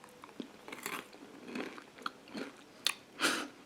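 Crunchy gingerbread-like stevia muffins are bitten and chewed close up, giving a series of sharp, irregular crunches and crackles against a quiet background.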